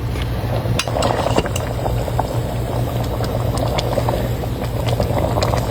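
Munggo, Filipino mung beans, boiling in a home kitchen pot, with steady bubbling and sputtering liquid plus a low hum and occasional light clinks, continuous and close throughout.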